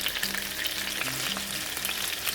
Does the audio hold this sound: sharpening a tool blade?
no